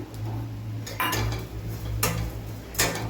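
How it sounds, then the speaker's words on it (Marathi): A spoon stirs and scrapes sweet modak filling in a metal pan, with a steady rasping texture broken by three or four louder clanks against the pan at irregular intervals, close up and without voices. "आता एक मिनिटभरच आपण छान असं मिक्स करूया"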